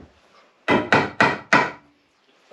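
Four heavy hammer blows on a short piece of 2x4 timber aboard a sailboat, evenly spaced and loud and close, each a sharp woody thud that dies quickly, followed by a brief quiet and the start of another strike.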